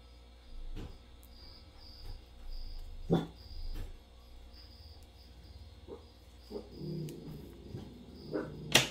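Pet dogs indoors give a few scattered barks, some near and some more distant, over a constant high cricket-like hum, with no one speaking.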